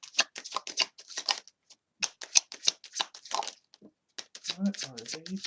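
Tarot cards shuffled close by in quick crisp riffles and flicks, bursts of rapid papery snaps broken by short pauses, with a voice speaking briefly at the end.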